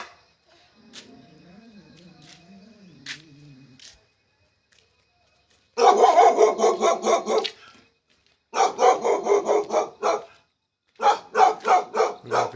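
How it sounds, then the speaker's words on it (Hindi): A dog at a village house barks in three loud bursts of rapid, repeated barks with silent gaps between them, preceded by faint background sounds. "उनका कुत्ता भी है।"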